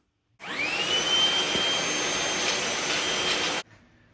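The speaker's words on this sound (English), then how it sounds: "we gotta vacuum that dirt" A vacuum cleaner roars to life with a rising whine, running loud and steady for about three seconds before cutting off abruptly.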